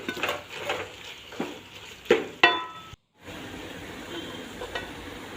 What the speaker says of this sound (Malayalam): കറിവേപ്പില, തക്കാളി എന്നിവ ചേർത്ത് നന്നായിട്ട് ഇളക്കി കൊടുക്കാം.